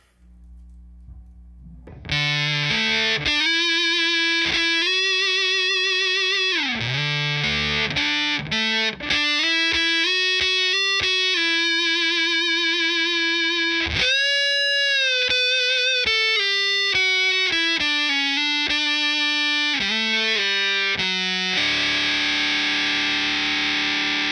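An electric guitar on its neck pickup runs through a Big Muff fuzz pedal, playing a sequence of sustained, heavily fuzzed notes and slides, loud and alone from start to finish after a brief quiet opening.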